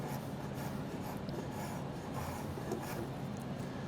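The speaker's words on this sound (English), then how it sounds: "once I've got this curve pretty well, I can start beveling the edges" Hand tool rasping and shaving along the curved edge of a wooden puzzle stool to bevel it, a continuous soft scraping texture heard close and steady, with no voices.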